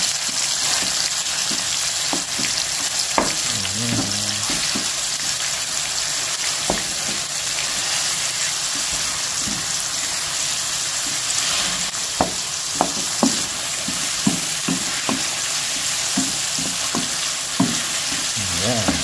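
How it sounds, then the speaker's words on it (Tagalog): Onions and tomatoes sauté in a pan with a steady broadband sizzle, broken by scattered scraping clicks from stirring; no one speaks. "Gisa-gisa lang po mga kabayan."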